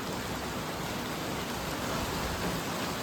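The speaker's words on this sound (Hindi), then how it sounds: "और बारिश देखो।" Steady, dense rain pours down in bright sunshine, a continuous even hiss of drops on surfaces, close and unbroken throughout with no voices.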